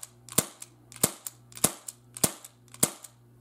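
An airsoft Colt Python .357 Magnum revolver fires five times in a steady rhythm, each sharp, crisp crack close and loud with a brief mechanical click between shots, and no voices.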